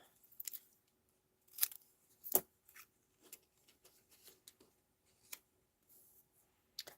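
Scissors snip off a small bit of paper or thread in a quiet room: several sharp, close, isolated cuts spaced irregularly, with soft handling ticks between them and no talking.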